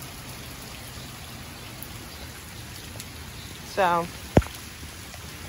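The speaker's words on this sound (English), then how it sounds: "yeah, it's powerful rain" Powerful rain from Tropical Storm Isaias in August 2020 pours as a steady broadband wash throughout, with a brief voice and a sharp knock near the end cutting in over the downpour.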